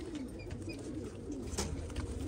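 Golden Salara pigeon, a pure-bred Imamdeen Golden, cooing in low soft repeated murmurs that run steadily under a noisy background, with a brief brighter sound partway through.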